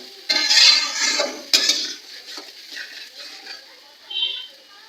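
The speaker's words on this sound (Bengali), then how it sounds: "কিছুক্ষণ পর মশলাটা একটু নাড়াচাড়া করে নেবো" Masala for a mutton curry is stirred in a pan, a spoon scraping and clinking against the metal in short bursts over a soft, faint frying hiss, close by, with a few quieter movements later.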